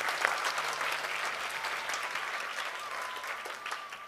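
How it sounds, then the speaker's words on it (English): Audience applause for two honorees at a speech event: steady, dense clapping from a sizeable crowd, sustained throughout at fairly close range with no talking. "I think Hansika and Karishma deserve another round of applause"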